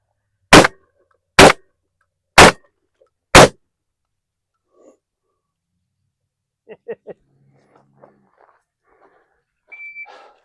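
Four sharp pistol shots crack out at a steady pace, loud and close, during shooting practice. Quiet follows, with faint voices murmuring and a short beep from a shot timer near the end.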